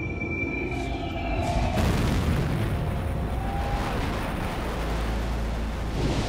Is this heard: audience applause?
no